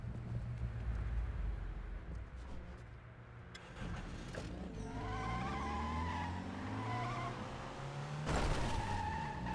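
Tires skid and squeal as a poorly handling car slides around in the Crackdown video game, with engine drone underneath and rising squealing tones building toward a loud burst near the end; no one speaks.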